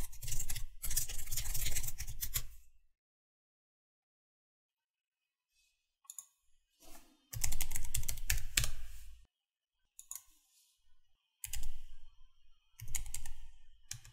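Bursts of rapid keyboard typing for a disk encryption password, loud and close, broken by long silent pauses and resuming in several short runs.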